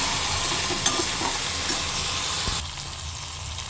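Masala fries in oil in a pan for palak paneer while being stirred, a loud close sizzle with scraping that drops noticeably quieter in the final second.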